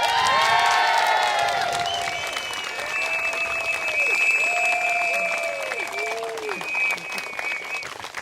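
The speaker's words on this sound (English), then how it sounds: "while you're all clapping, can we just have a huge round of applause for the stewards?" Large outdoor crowd at a Speakers' Corner rally breaks into loud, sustained applause and cheering for the stewards, with whoops and shouts rising over the clapping, then gradually easing.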